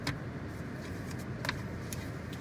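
Steady low rumble and road noise inside a borrowed family car while driving, faint and continuous with a few light rattles.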